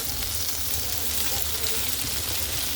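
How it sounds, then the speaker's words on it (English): Fresh okra frying in a skillet, a continuous even sizzle of moderate loudness with no voices. "Skillet cooked okra"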